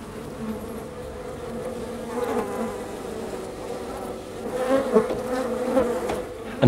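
Some 60,000 honeybees in a comb behind glass in Devon, a dense continuous hum of buzzing that swells and eases, close and steady with no talk.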